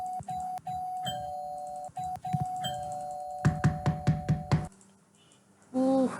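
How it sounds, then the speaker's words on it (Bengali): A doorbell rings in the Roblox game Brookhaven, sounding a few long steady electronic chimes and then a quick run of five or six sharp repeated rings, loud and close, before a short pause and a brief chime. "তো ফার্স্ট কলিং বেল দেই"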